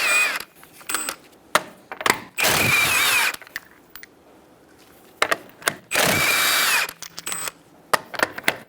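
Power tool spinning off the lug nuts with a 21mm socket to remove the rear wheel of a 2010-2013 Kia Soul during a brake caliper job; two long loud bursts of whirring, surrounded by scattered clanks and clicks of metal parts.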